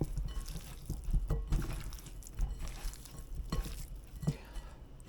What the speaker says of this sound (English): Toss until all the wings are totally covered.